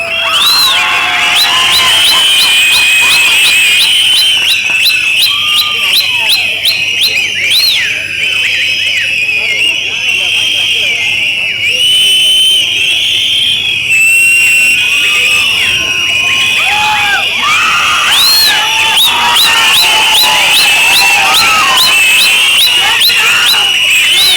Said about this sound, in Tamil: நம்ம அடிக்க போற விசில் ஆழ்வார்பேட்டை ஸ்டாலின் சாருக்கு கேட்கணும்.